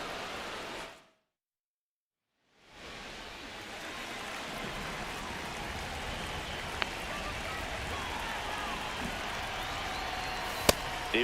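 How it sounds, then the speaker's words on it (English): Rain pours during a baseball game in MLB The Show 26, a dense constant hiss that cuts out briefly to silence and returns, with a couple of sharp faint clicks later on. "This rain is not letting up."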